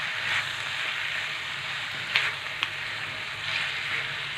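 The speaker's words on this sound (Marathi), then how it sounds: "आता दुधी घातल्याच्या नंतर आपल्याला हे सर्व एकसारखं हलवत राहायचं आहे" A bottle gourd and paneer mixture sizzles steadily in a pan while being stirred, with a soft constant frying hiss broken by a couple of small clicks from the spoon.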